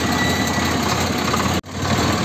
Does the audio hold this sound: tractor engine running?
yes